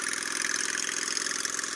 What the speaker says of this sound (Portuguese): A gente tá indo ali dar uma voltinha, aquecer os motores, esquentar o óleo